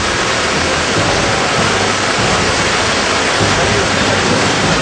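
Floodwater pours over a road in Chittorgarh district, Rajasthan, with waves surging below, making a loud, continuous roar of rushing water up close.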